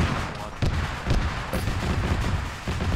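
Gunfire in the video game Combined Arms, dense bursts of shots and booms in a constant rumbling barrage, loud and near, with no clear talk.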